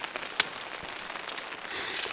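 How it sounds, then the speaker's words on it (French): Rain falls on a lake surface during a lakeside bivouac, a dense even patter of drops with scattered sharper taps, close and continuous. "Il y a la pluie sur la surface du lac."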